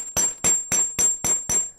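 Six evenly spaced, sharp metallic hammer strikes ring out close up as metal is shaped for handcrafted jewelry, each blow leaving a brief bright ring.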